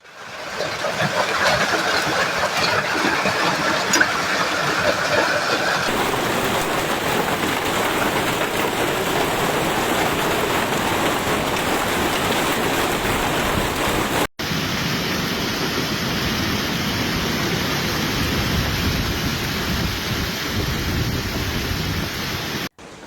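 Heavy rain mixed with hail pounds down steadily during a violent late-afternoon storm in France, a dense, loud wash of impacts that continues without pause and shifts in tone partway through.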